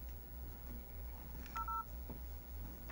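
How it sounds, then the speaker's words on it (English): Phone dialing tones from a call placed on a different phone: a few short touch-tone beeps, with one longer tone in the middle, over a steady low line hum. "Let's call these knuckleheads from a different phone"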